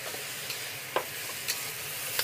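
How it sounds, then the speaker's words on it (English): Scallions stir-frying in a very hot wok on a Bluestar range give a steady sizzle with a few sharp scrapes and clinks of the spatula, close and continuous, no talking. "Then I'm going to add my scallions."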